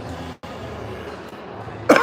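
A single short cough near the end, following a stretch of low background noise with a brief dropout.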